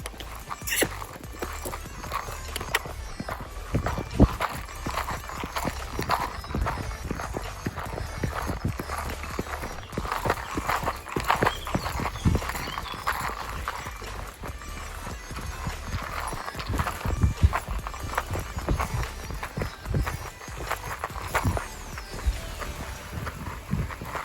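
A horse gallops on rough mountain terrain near Zakopane, ridden in a halter, with a fast, continuous drumming of hooves close by that runs steadily throughout.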